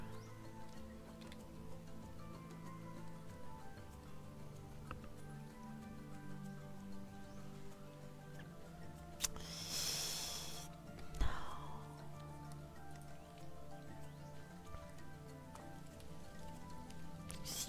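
Steady rain falling in the XING: The Land Beyond video game, a soft continuous patter of drops with a couple of brief louder bursts partway through, under a low humming game ambience.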